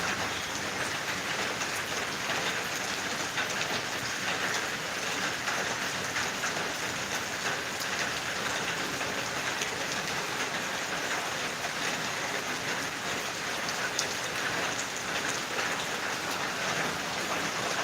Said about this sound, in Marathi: पाऊस येतोय बघा थोडा थोडा आता कमी झाला आहे पाऊस